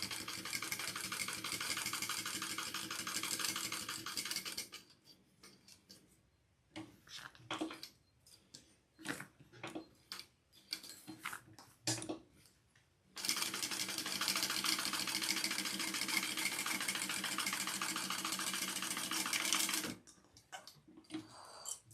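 A sewing machine top-stitches the side seams of a small fabric pouch at a long stitch length, with two long, steady, rapid runs separated by a stretch of short, stop-start bursts.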